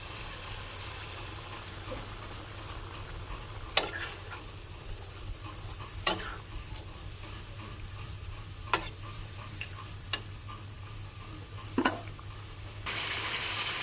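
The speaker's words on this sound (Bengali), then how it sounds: "এখন অল্প একটু পানি দিয়ে মুরগির মাংসটা কষিয়ে নেব" Chicken meat braises in a pan with a little water, a low steady sizzle and bubbling underneath occasional sharp clinks of a stirring spoon against the pan, quiet and close.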